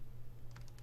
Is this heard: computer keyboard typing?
yes